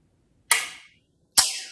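Two sharp, crisp clicks from the reset of a CMC match grade trigger on a Ruger 10/22 rifle, close up and isolated against silence, each with a brief bright decay.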